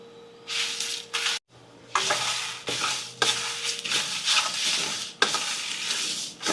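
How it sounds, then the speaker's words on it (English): Spices are toasted in a dry pan for a chicken vindaloo, giving bursts of sizzling and scraping stirs broken by short pauses, close and fairly loud. "Right, so I'm going to toast this."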